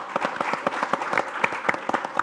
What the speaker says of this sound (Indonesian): Sekali lagi kita kasih aplaus